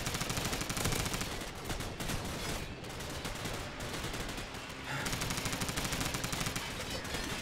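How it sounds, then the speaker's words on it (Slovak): Rapid gunfire from a Call of Duty 4 match on the Wet Work map with bots, dense automatic bursts rattling almost nonstop, loud and close, with a brief lull before firing resumes. "Naslepo som strieľal."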